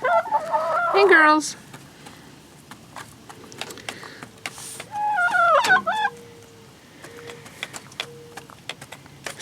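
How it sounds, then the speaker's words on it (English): Backyard hens at feeding time cluck and squawk in two loud, agitated bursts, with softer clucks scattered between, and a person speaks briefly among them. "I came to feed the chickies."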